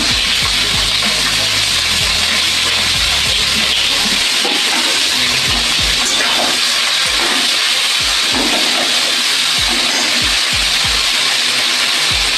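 Loud, continuous hiss of chopped onions sizzling in hot oil, close up, with a steady roar throughout.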